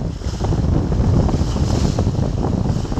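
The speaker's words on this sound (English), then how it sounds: "We've now got a really nice breeze, probably gusting up around 15 knots" Strong wind rushes steadily around a sailboat at sea on the passage from Pittwater to Newcastle, gusting near 15 knots. It comes as a loud, continuous roar against the microphone, with no voices.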